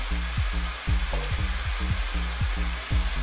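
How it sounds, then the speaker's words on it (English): Thai fish curry with aubergines and fresh coconut milk being stirred in a pan, a steady soft bubbling sizzle with a low hum underneath and regular scraping stirs repeating about every half second. "We're going to give that a little stir"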